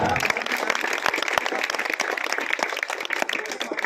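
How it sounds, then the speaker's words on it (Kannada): Theatre audience applauding performers, dense sustained clapping from many hands filling the hall at steady loudness throughout, with no voices over it. "ಸಾಕು ಈ ನಿಮ್ಮ ಪ್ರೀತಿಯ ಚಪ್ಪಾಳೆ"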